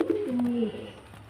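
A pigeon, one of a male and female pair kept for sale in Beldanga, Murshidabad, gives a single soft, low, drawn-out coo, close by and quiet.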